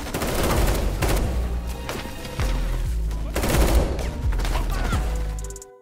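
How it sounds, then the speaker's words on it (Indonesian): Bursts of film gunfire crackle in rapid volleys with booming shots and echoing impacts, loud and continuous over a tense, dense soundtrack. "bos mafia ini langsung melepaskan tembakan"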